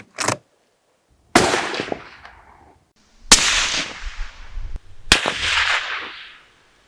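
Rifle shots fired through a STALON suppressor during a test ring out as three loud, sharp cracks spaced about two seconds apart, each trailing into a long echoing decay, after a brief smaller pop at the start.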